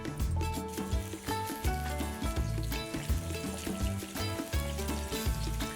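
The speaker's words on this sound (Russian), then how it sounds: "Пусть жирок выплавится." Pork ribs sizzle and crackle in hot fat in a kazan cauldron, a continuous frying hiss with low thumps and clinks nearby, no voices.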